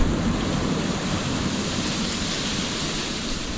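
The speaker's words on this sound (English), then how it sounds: "It's getting cold and super windy." Strong, cold storm wind roaring steadily against the microphone outdoors, a dense continuous rush of noise with no pauses and no voices.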